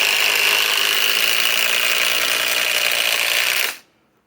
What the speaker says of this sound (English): Now, let's run the 2400 inch pound 4 mode with a 3 amp octane.